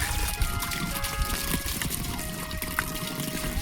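Natural mountain water running down beside a Lahu family's house in the forest, a close, steady trickling and splashing flow, continuous throughout with no voices.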